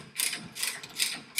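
A hand ratchet tightening bolts on a car makes quick bursts of clicking, about four short rattling strokes in a second and a half, close and crisp with no voices.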